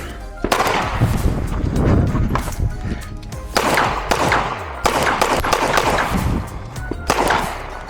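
Pistol shots at an IDPA defensive pistol match stage at El Dorado Gun Club, sharp cracks fired in quick strings with short pauses between, loud and close, with some voices in the background.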